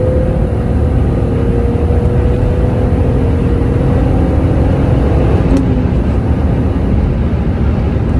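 A BMW M3 EVO accelerating hard, producing a loud, continuous roar of engine and rushing air that holds steady throughout, close and dense with no voices.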